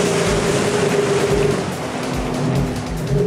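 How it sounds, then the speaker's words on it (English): Motorboat engine on a lake during a walleye fishing trip, a loud rumbling drone that sags and falters midway before picking back up, with water noise around it and no talking. "The engine just started giving out."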